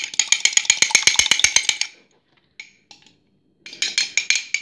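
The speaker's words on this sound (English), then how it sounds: "start whisking" A whisk beats rapidly against a bowl in a steady, fast run of bright metallic clinks, then pauses briefly and starts again, loud and close with no talk.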